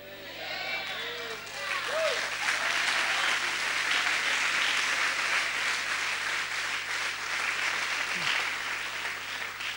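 A church congregation applauds in a steady, even wash of many hands, moderately distant, with a few faint voices and cheers rising briefly near the start.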